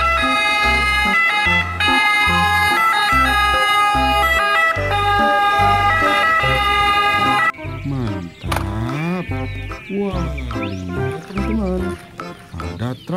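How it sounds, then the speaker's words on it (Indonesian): A toy ambulance plays a loud electronic siren, first as sustained steady tones and then as rising and falling wails mixed with growl-like sound effects. "di sini ada mobil ambulan"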